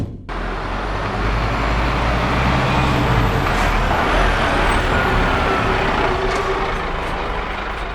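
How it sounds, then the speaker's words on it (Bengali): A heavy lorry rumbles past on a rural road on the wrong route toward Dumka, a loud, steady engine roar with low drone, close by, alone with no talk. "লরি চলে গেল।"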